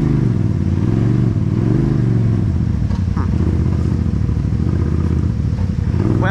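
An off-road vehicle fitted with a spool locker revs its engine in two-wheel drive, giving a loud, close, continuous rumble that rises and falls in pitch, with clattering drivetrain noise.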